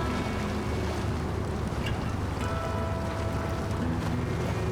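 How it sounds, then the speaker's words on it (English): ANK MK38 truck in SnowRunner splashing through water on rough Yukon terrain in low gear, a continuous loud churning rush of spray over engine rumble, with no talk. "The water is really flying in the air"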